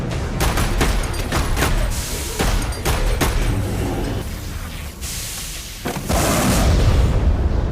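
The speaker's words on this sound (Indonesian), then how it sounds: "peluru dari senjata 3 tidak sengaja terkena pipa gas dan menyebabkan ledakan" A gas pipe bursts into an explosion after being struck by a stray bullet, with a rapid series of loud booming blasts and crackling bursts, then a sustained roaring rumble that swells louder at the end.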